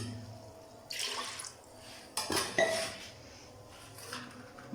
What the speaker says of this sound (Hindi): अभी मैं 2 गिलास इसमें पानी डाल दूँगी बॉयल होने के लिए